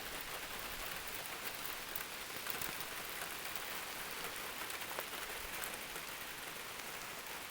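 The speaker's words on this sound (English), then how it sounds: "you can see that it's raining pretty hard" Heavy rain pours steadily outdoors at Wood Knock Holler in Alabama, a dense, unbroken hiss of drops hitting the ground and surfaces, uniform in loudness throughout, with no voices.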